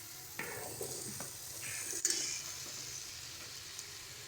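Fried beans, peas and potatoes hit sizzling masala in a pan, a soft steady frying hiss with scraping stir strokes and a sharper clatter midway, no voices.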